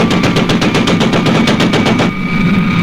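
A ship's gun in a puppet TV adventure series fires a rapid, loud burst of regular cracking shots, close and harsh, lasting about two seconds before trailing off.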